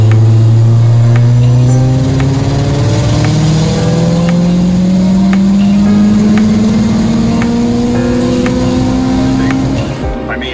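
A turbocharged race car with a stock-flange turbo makes a loud, close test pull, its engine note climbing smoothly and steadily in pitch for about ten seconds before easing off at the end.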